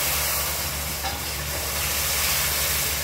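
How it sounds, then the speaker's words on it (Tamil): Steady hissing steam rises as water is poured slowly into hot halwa on a stove, a close, continuous sizzle with a low hum beneath and no talking. "தண்ணி கொஞ்சம் கொஞ்சமாக ஊற்றணும்."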